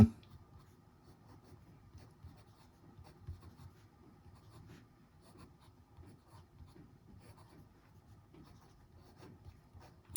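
PENBBS 456 Sakura fountain pen with a fine steel nib writing on paper, giving faint, close scratchy strokes in an irregular rhythm of short bursts and pauses, alone in a quiet room.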